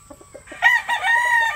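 A young gamecock stag crows close by, a loud drawn-out call rising after a few short clucks, with no talking.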